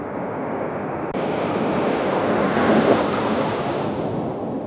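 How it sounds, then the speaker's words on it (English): Surf and waves play as a sound-effect cue, a steady broadband wash of breaking water with a gentle swell in the middle, heard alone without voices. "Let's try the first cue with the surf and waves."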